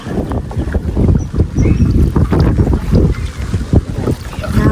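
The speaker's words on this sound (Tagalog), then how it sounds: "Malakas po ang hangin." Heavy wind roars and buffets the microphone in rough, continuous gusts during rain, with no clear speech.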